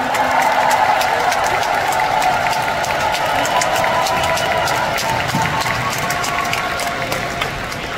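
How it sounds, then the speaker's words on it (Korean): Indoor concert audience in a convention hall applauding the dancers, a loud, dense, continuous wall of clapping and crowd noise that holds steady and tapers slightly at the end. "댄서분들께 큰 박수 부탁드립니다"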